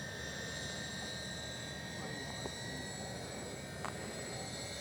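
A GWS C-130 Hercules RC model airplane, slowed with flaps down for touch-and-go passes in St. George, Utah, gives a steady, distant propeller drone that holds level throughout with no talking.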